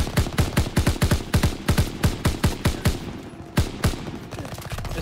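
Rapid, loud bursts of automatic gunfire from a gun in a WW2 video game, shots firing in quick rhythmic volleys close up with short pauses between bursts.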